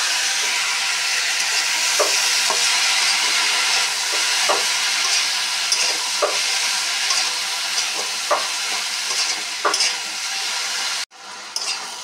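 Vine stems and boiled jackfruit seeds fry in a pan, giving a loud, continuous close hiss with periodic scraping stirs, then a brief break near the end.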